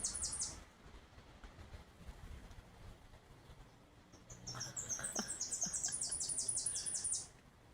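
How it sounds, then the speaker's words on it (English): A bird calling outdoors after rain, sharp high chirps at the start and then a rapid run of repeated bright notes later, fairly faint against a quiet background hiss. "I hear this bird, but I don't see it."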